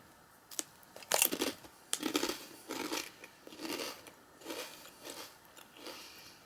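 Walkers Fiercely Flamin' Hot crisps bitten and chewed up close, giving a string of sharp crunches followed by rhythmic crunchy chewing, fairly quiet, with no talking.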